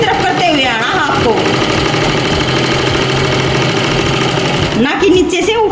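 A sewing machine runs steadily for several seconds, stitching the side seam of a pair of pants with a half-inch margin, its close mechanical whir steady throughout, briefly starting and stopping at the edges.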